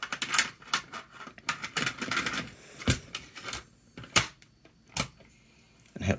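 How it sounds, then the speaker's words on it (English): Clicks and clacks of a cassette tape being set by hand into a Sony Walkman WM-FX195 portable AM/FM cassette player with no eject button, a series of sharp close plastic snaps and taps with brief pauses between them. "Go ahead and throw in the tape here."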